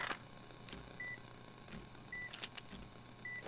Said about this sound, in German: Das piepst übrigens weiter.